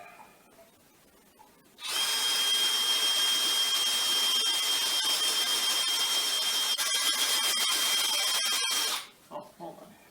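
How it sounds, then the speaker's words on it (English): A power drill fitted with a 1/4 inch masonry bit runs in one sustained, loud whine for about seven seconds, starting abruptly and stopping cleanly, with quieter handling sounds before and after. "So let's get to drilling."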